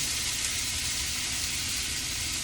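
Green beans and garlic hitting a very hot pan off the heat, giving a steady, close, bright sizzle that holds evenly from start to finish with no voices.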